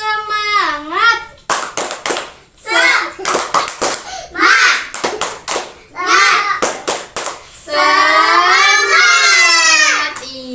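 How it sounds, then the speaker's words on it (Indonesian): Children chant and clap a rhythmic Indonesian spirit-clap routine (tepuk semangat) in a classroom, sing-song voices broken by sharp bursts of clapping, ending in a long drawn-out shouted cheer. "Coba, kakak mau ngedengar tepuk semangatnya dulu."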